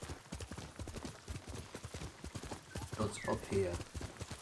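Video game horse hooves clip-clopping in a quick, steady rhythm at moderate distance, running under someone talking, with a short burst of other game sounds near the end.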